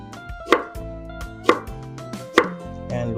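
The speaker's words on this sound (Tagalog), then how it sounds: "Ito yung luya natin. Hihiwain ko lang din to ng pino." Ginger being finely chopped with a kitchen knife on a board for dinakdakan, with several sharp knife strikes over steady background music.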